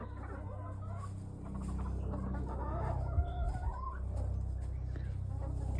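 Hens clucking in a backyard pen during egg collection, soft, irregular bird calls, fairly close, over a steady low background hum, with no talk.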